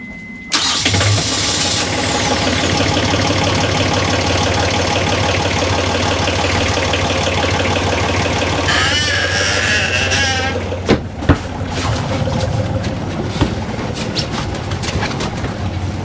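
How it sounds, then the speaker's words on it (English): A boat's diesel engine cranks and catches, then settles into a loud, steady chugging idle that continues throughout, with some clanks and rattles near the end. "What are we still doing with a diesel engine?"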